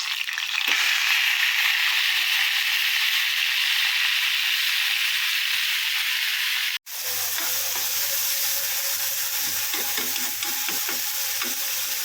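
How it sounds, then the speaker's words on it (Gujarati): Radish greens drop into hot oil with fried whole fenugreek seeds in a pan, and the steady loud sizzle is broken by a brief pause before the frying hiss resumes with crackles and stirring. "મેથી તળાઈ ગઈ છે એટલે હવે આપણે નાખી દઈશું મૂળાની ભાજી"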